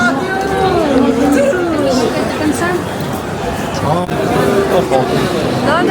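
Busy crowd chatter fills the area in front of Strasbourg cathedral among the Christmas market shops. Many overlapping voices mix into a steady, lively hubbub, close and continuous.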